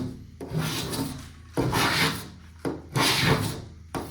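Paint scraped off a window pane with a blade, four or five long raspy strokes separated by short pauses, loud and close, with no voices.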